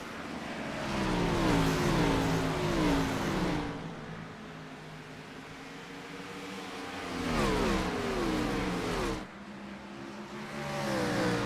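NASCAR race cars in the iRacing video game at Bristol roar and rev in a dense pack, surging loud, dropping briefly, then swelling again as cars sweep past, with no talk over the engines.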